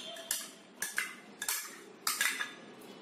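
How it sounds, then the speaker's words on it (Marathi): Mixed vegetables being tossed together in a bowl for a veg mayonnaise salad, with four or five sharp clinks of a spoon against the dish, close and clear in a quiet room. "सर्वप्रथम आपण सर्व भाज्या बाउलमध्ये मिक्स करणार आहोत एकत्र"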